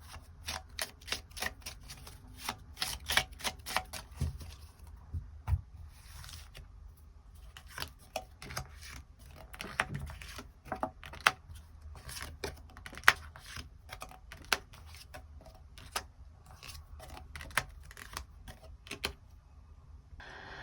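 Tarot cards are shuffled and extra cards drawn, giving a long run of crisp, close snapping and riffling clicks, dense at first and then thinning into scattered sharp flicks; nobody talks.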